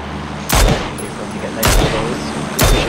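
Three loud, sharp gunshots from PUBG battle-royale gameplay, each a broadband crack with a short decaying tail, spaced about a second apart over a steady ambient bed.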